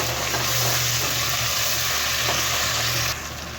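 Tomatoes with ginger garlic paste hit a pan of browned onions, a steady close sizzle and hiss with a low hum beneath, easing slightly near the end.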